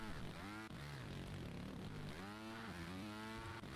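A small propeller airplane in the motorbike game Trials Rising drones loudly and steadily throughout, its engine pitch rising and falling in smooth sweeps with a brief dip near the start.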